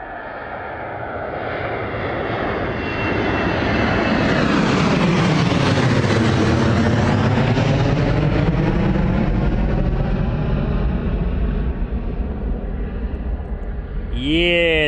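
A heavy Ryanair airliner takes off low at Bristol Airport, its engine roar loud and steady throughout, swelling as it passes close and then holding strong; people talk over the noise.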